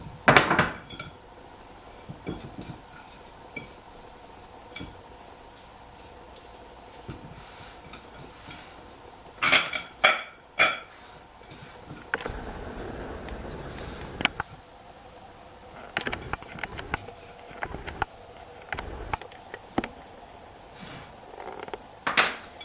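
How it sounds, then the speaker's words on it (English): A fork mixes moist pie crust dough in a bowl, with repeated clinks and scrapes against the dish that come in irregular bursts, some sharp and close, separated by quieter stirring. "continue to mix it with your fork until it's all moist"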